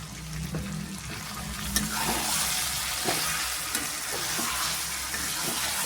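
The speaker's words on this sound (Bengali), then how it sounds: "এবার আমি খুব ভালো করে কষিয়ে নেব কিছুক্ষণ" Chicken being fried with chilli, coriander and cumin powders for a Bengali chicken and potato curry, a steady close sizzle with scattered stirring clatters and scrapes throughout, no talk.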